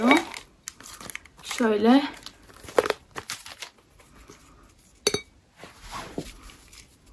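Someone opens a small 375 cc glass vacuum storage jar by hand. Crinkling packaging and light glassy clinks and clicks come in short bursts, mixed with stretches of nearby talk.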